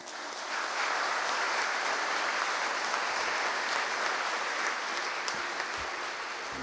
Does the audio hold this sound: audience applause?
yes